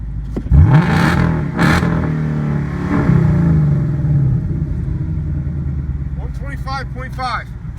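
A 2018 Ford Mustang GT engine revs up nearby, a rising growl under ongoing talk, then settles into a steady idle-like rumble while people keep speaking.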